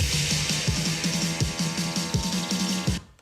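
An EDM build-up rises toward the drop: a dense, loud full-band wash of synths over a steady pulsing kick pattern, cutting off abruptly at the end into a brief rest.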